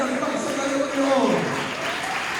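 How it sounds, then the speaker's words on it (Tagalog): A church congregation at a holy supper service claps together, a dense wash of applause mixed with a voice speaking over it. "Lahat na nasa taas, palakpak sa Panginoon!"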